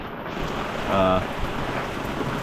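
A steady, soft hiss of light rain falls throughout, heard from a sailboat, with a brief tonal hum rising and fading near the middle.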